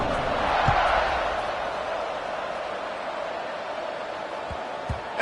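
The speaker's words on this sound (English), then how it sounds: "this crowd is buzzing after that last score" A stadium crowd at a football game keeps up a steady, broad roaring murmur, with a few dull thumps breaking through now and then.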